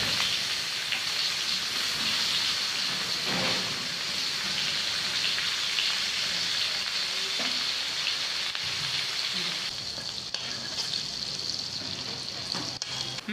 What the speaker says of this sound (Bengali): এখন কড়াইতে পেঁয়াজ দিয়ে দিব।